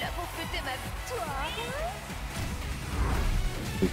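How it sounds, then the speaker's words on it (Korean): A Siamese cat gives a drawn-out, rising-and-falling meow inside the Tekken 8 trailer, heard amid game sound effects and a voice talking. "오, 샴 고양이다."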